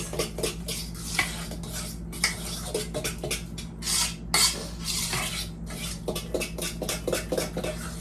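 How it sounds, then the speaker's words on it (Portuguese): Gluten-free bread batter, just thinned with half a cup of liquid, is mixed in a bowl: a run of rhythmic scraping and clinking strokes, close and moderately loud, with brief pauses between bursts. "Meio copo e novamente vamos misturar os ingredientes."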